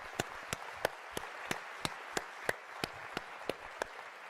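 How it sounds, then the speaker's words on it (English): Sparse, evenly spaced claps ring out at an AGM for newly elected member-nominated directors: about a dozen sharp, faint hand claps in a steady rhythm over quiet room noise. "So, a round of applause to them."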